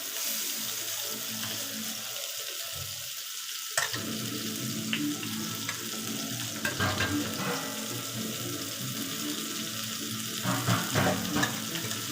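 Fish frying in a pan while being cooked, a continuous loud sizzle and crackle with clatter from turning the pieces, and a brief quieter lull partway through.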